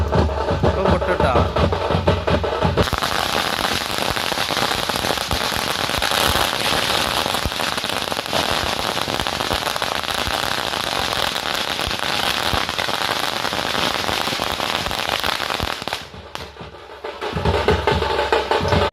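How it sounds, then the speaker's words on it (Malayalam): A long line of firecrackers laid along the middle of a road bursts during a festival procession, a dense, loud, unbroken crackling rattle that runs for many seconds before cutting off briefly and resuming. "അവിടെ ആ ലൈനായിട്ട് കിടക്കണത് റോഡിന്റെ സെൻട്രലായിട്ട് അതിഞ്ഞ് പൊട്ടാനുള്ളതാണ്"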